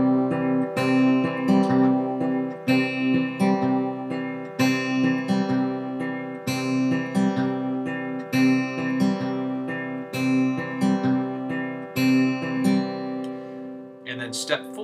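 A guitar plays a repeating fingerstyle picking pattern with a syncopated first-finger note, in steady plucked cycles heard close and clear, with a brief scrape at the end.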